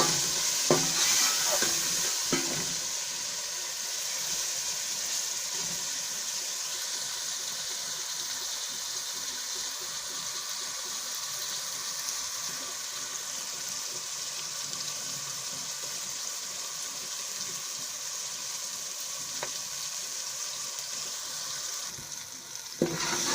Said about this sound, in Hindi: टमाटर को थोड़ी देर भून लेंगे